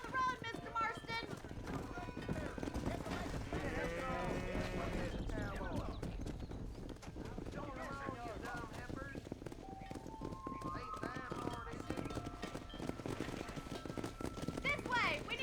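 Herd of horses trotting and clip-clopping along a road in Red Dead Redemption, steady hoof beats under frequent talk and shouts from riders, with an occasional whinny.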